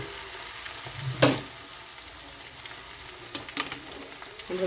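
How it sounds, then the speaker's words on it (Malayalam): Ginger, garlic and chili sizzle gently in a pan while being stirred for a lime pickle, a steady soft frying hiss with a couple of sharper scraping accents, no voices. "ഇളക്കി കൊടുക്കട്ടെ പച്ചമണം പോവോളം"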